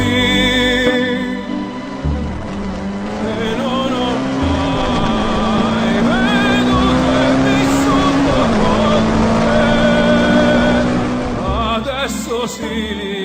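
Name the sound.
2012 Fiat 500 Abarth Esseesse car engine and sports exhaust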